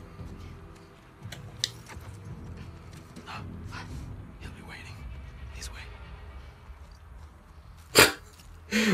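A dog in The Last of Us Part II, heard as a few distant yips and barks over a low, murky game ambience, with two sharp, louder bursts near the end. Someone talks throughout.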